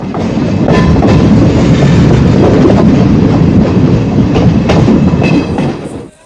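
A train pulls into Rampurhat station in Birbhum district, loud and close, with rumbling wheels and rhythmic clickety-clack over the rail joints that fades away abruptly at the end.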